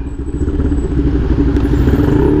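A Yamaha Mio scooter of just over 200 cc, fitted with a quick throttle, gives a loud, steady, close engine drone with a rough clattering edge as it accelerates. No one talks.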